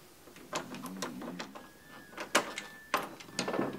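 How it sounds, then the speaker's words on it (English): A key turning in a door lock: a run of sharp metallic clicks and rattles, several distinct clacks close by, with a faint steady tone in the background and no talking. "That's unlocking a door."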